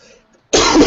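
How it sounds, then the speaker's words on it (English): A single loud, close cough bursts out abruptly after a near-silent pause, harsh and broadband. "sorry if I'm coughing and it's coming right through on the audio"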